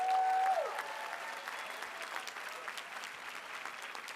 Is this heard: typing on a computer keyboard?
no